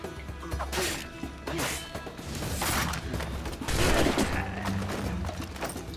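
Gunfire and combat crashes in the Assassin's Creed IV Black Flag video game, a rapid run of sharp bangs and impacts over a busy battle background, fairly loud with no clear pauses.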